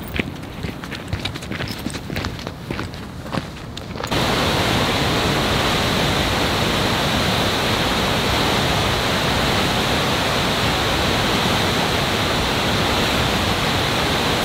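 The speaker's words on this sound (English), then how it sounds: "we have one more waterfall right before we start our ascent" A waterfall in Glacier National Park roars as a loud, steady broadband rush, with quieter footsteps and movement in the first few seconds before the full close-up water noise takes over.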